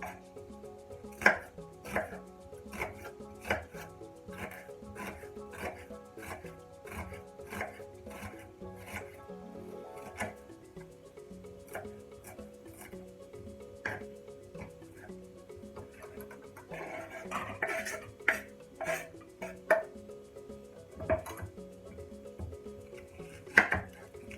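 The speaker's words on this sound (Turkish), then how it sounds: "İlk olaraktan e, soğanlarımı doğramakla başlıyorum." A knife chops onions steadily on a cutting board, quick rhythmic taps repeating close up, with a faint dog bark and a few clinks in the background.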